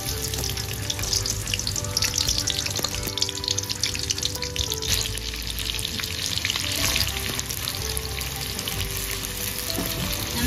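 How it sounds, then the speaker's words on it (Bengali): Chopped onions dropped into hot oil for a buffalo meat curry fry with a loud, continuous crackling sizzle, broken by occasional stirring scrapes. "তেল গরম হয়ে গিয়েছে, এখানে পেঁয়াজ কুচি দিয়ে দিচ্ছি।"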